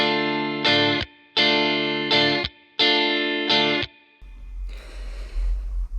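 Strummed electric guitar with effects in a soul rhythm: three repeated bursts of two quick upstrokes then a choked palm-muted stop, loud and close, followed by a low rumbling noisy tail.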